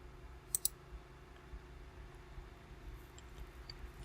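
A computer mouse clicked twice in quick succession while navigating Windows Server 2016 settings, sharp close clicks followed by faint scattered ticks over a low steady hum.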